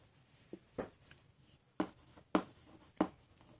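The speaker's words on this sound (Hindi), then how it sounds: "जो मैंने अभी लाइन बोली उसको आप मैं लिख देती हूँ" A pen writes on paper in short, scratchy bursts during a maths lesson, with a few sharper strokes standing out against quiet background. No voices.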